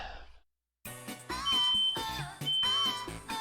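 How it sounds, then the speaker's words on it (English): A fire alarm sounds in a house, sharp high tonal beeps repeating at a steady pace over a busy puzzle-game soundtrack. The alarm comes through faintly but clearly beneath the music, and no one speaks. "That sounds like a fire alarm."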